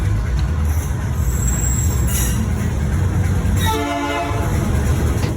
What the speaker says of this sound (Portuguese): de hora em hora o trem passava, seja indo, seja voltando